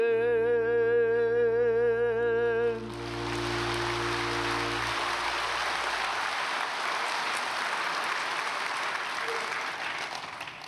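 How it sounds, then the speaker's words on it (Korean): A church congregation bursts into loud, sustained applause right after a sung prayer ends, the dense clapping filling the space alone for several seconds and slowly thinning out. "박수할 줄 알았어요"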